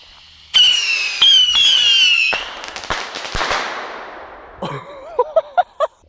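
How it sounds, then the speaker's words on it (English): Five bottle rockets launch together before the Fourth of July, whistling shrilly as they rise, followed by a string of sharp bangs and crackling bursts, then a few scattered pops and trailing whistles. "we've got 5 more of these bottle rockets to do, and I'm gonna go ahead and see if I can light all of them"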